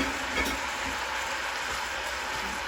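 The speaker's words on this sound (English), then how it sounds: "you're going to hear a sizzle" Ground beef frying in bacon fat inside a ceramic pot for a Creole spaghetti casserole, giving a steady, dense sizzle close up with faint clicks of stirring and no voices.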